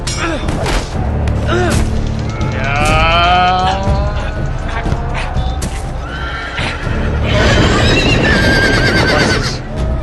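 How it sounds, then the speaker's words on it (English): Several horses whinny loudly in a medieval Game of Thrones video game scene, repeated neighs rising and falling across the clip amid rumbling game sound, with a player's voice talking over it. "Horses. So many horses."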